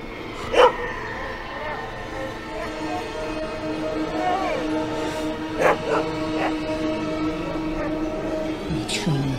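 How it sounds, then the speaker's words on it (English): A dog barks in several sharp, separate outbursts spread across a horror movie scene, mid-distance, over a steady bed of tonal background sound and faint voices. "What's wrong with that fucking dog?"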